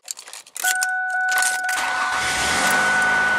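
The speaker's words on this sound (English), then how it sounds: "So our engine is running now." A car engine cranks briefly and catches, then settles into a steady close idle, with a faint tonal chime from the car sounding over the start.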